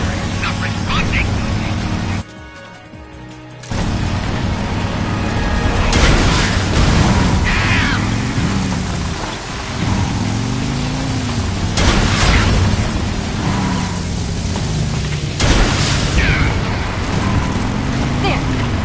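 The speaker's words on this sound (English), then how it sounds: "Here come the missiles!" Missile explosions in the video game Metal Gear Solid Delta: Snake Eater, with loud booming blasts and rumbling aircraft noise over a continuous roar, broken by a brief lull, as voices talk throughout.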